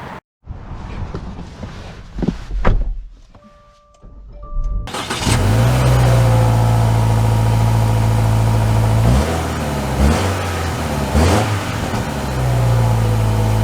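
A 2024 Subaru Forester Wilderness starts up, then its engine idles and pulls away with a steady, loud mid-range hum that rises and dips as it accelerates, heard close from inside the cabin.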